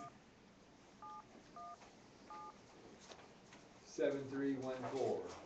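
Three short telephone keypad tones beep in a slow, evenly spaced sequence on a phone that is failing to dial out, followed by a person beginning to speak.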